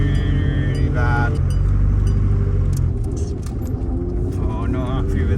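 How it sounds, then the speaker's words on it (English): A van with broken differentials drives along with a loud, rough, continuous road rumble and rattling, clinking noises, while voices talk over it. "the van is actually sounding worse than it's ever sounded before."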